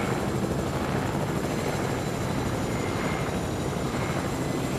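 A Choppa helicopter flies in Fortnite, its rotor and engine making a loud, continuous whirring roar at a steady level throughout, with no talk.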